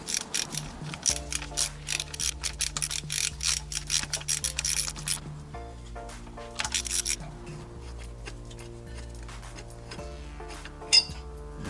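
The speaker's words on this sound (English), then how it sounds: "I'm going to take it all the way off, and conveniently we're using the exact same size of deep socket, the good old 13mm." A 13mm deep socket on a ratchet works rear motor mount bolts loose on a Ford Fiesta ST, giving repeated rapid clicking bursts of the pawl with metallic clinks between, close and distinct with no talk.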